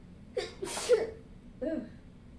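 A sneeze bursts out twice in quick succession at moderate volume, followed a moment later by a softer third sneeze, in a quiet room.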